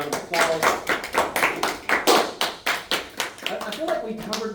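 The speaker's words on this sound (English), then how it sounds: "give yourself a big round of applause." Students clapping in an algebra classroom, a small group producing distinct, fairly loud claps in a loose rhythm, with a voice coming in near the end.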